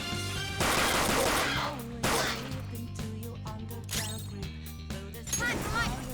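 Gunfire from a gun attack in the video game Persona 5 Royal, with bursts of rapid shots layered over loud game music and effects, heavy at the start and again near the end.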